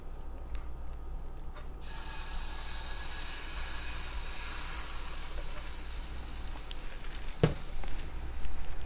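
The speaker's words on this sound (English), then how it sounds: "these will be fairly small pancakes because the skillet's not too big" Pancakes fry in ghee in a small skillet, giving a steady, soft sizzle that continues without pause and swells slightly near the end, with no talking.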